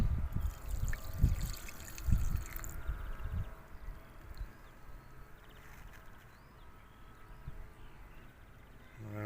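Oily paint with pigment settled beneath is poured from a tin in a few sloshing, gurgling bursts over the first seconds, then the trickle thins and fades into quiet room tone.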